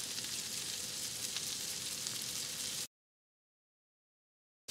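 Vegetables sizzle in a skillet seasoned with garlic powder and crushed red pepper flakes, a steady bright hiss and crackle that runs for almost three seconds before cutting off abruptly into silence.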